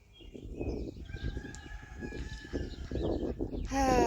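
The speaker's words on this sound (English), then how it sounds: "she's crowing and he's crowing in the background" Backyard chickens and a rooster crow and cluck over a steady rustle, with a loud, close crow near the end.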